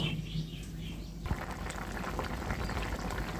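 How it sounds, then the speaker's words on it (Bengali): Water bubbling at a rolling boil in a pot of rohu fish and eggplant curry. It begins with a soft, quieter start, then becomes a dense, steady fizzing and popping from close by. "জলটা দেওয়ার সাথে সাথে একদম ফুটে উঠেছে"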